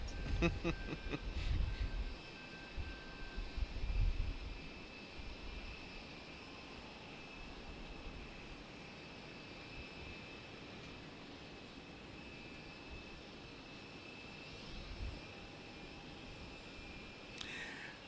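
An Aeromexico Embraer jet airliner at Raleigh-Durham airport, heard as a faint, distant, steady engine whine and rumble that holds evenly throughout, with a few brief louder bumps near the start and end.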